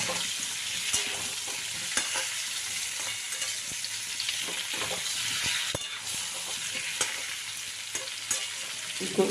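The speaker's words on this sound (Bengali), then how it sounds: "একটু ভেজে নেব আলু আর কচুটা একসাথে ভেজে নেব" Potato and taro pieces fry together in a pan of hot oil, a steady close sizzle broken by the scrape and clatter of stirring, with no talking.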